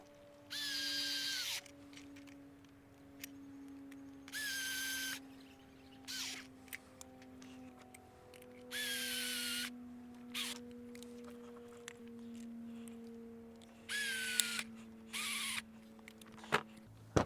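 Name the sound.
tightening bolts with screwdriver and spanner on bracket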